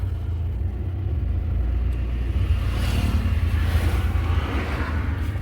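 A car in first gear pulls away slowly as the clutch is gently released, giving a steady low engine rumble from inside the cabin with a slight swell as it moves off, no talking.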